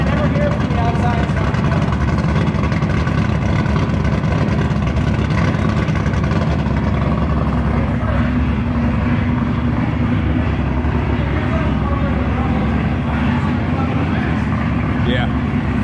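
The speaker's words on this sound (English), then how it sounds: "It's just as loud as mine." An LS-swapped Nissan 350Z drift car sits running nearby, its V8 exhaust giving a steady, loud, rumbling idle that fills the whole stretch while people talk over it.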